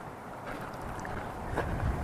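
Gusty wind buffets the microphone with a low, rushing roar that swells slightly toward the end in a botanical garden in Kerrville, Texas; no one speaks.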